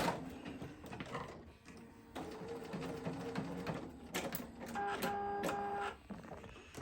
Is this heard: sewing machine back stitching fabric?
yes